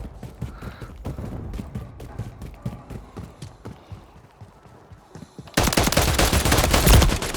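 Pistol shots ring out in Call of Duty Modern Warfare 3, a string of sharp, repeated cracks that turn into a much louder, denser burst of firing near the end.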